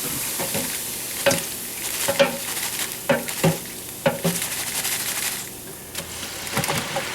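French fries shaken in a metal basket while deep frying, a constant close sizzle of hot oil broken by several sharp rattling knocks as the basket is jostled.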